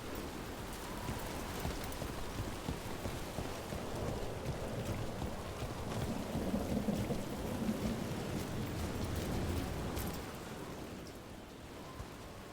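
Steady rain falls with low rumbling thunder in a stormy scene from the video game Dragon Age: The Veilguard, the downpour constant and fairly loud throughout with no voices.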